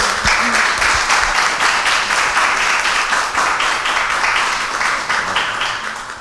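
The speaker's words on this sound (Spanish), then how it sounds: "Vamos a darle un fuerte aplauso a Aisha." A concert audience greets a classical violinist with loud, dense, continuous applause at close range, holding steady for several seconds before easing slightly at the end.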